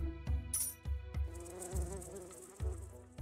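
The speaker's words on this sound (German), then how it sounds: "Das war wieder zu früh mit den Bienen." Bees swarm out of a beehive in the strategy game Ratropolis, a droning insect buzz over steady game music, broken by repeated low thumps and short bright chimes.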